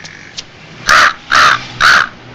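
A crow gives three loud, close, harsh caws in an even rhythm, each lasting about a quarter second, after a couple of faint sounds in the background.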